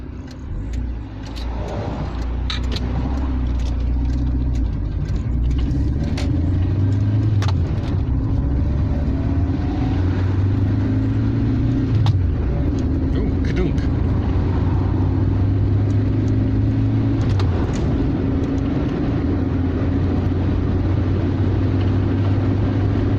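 A Talbot Horizon car drives along a road with its engine still cold, a steady close rumble with gear changes and shifting engine tone under light road noise, no talking.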